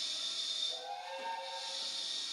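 Steam locomotive Oliver Cromwell on the Great Central Railway, giving a loud steady hiss of steam with a whistle rising over it halfway through, alone and without talk.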